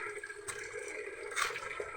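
Water running from a tap in a home kitchen, a soft continuous splashing with a couple of brief louder gushes, close and alone.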